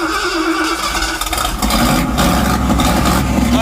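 A car engine runs at a fast, high idle, a steady mid-pitched drone that gets a bit rougher and louder partway through.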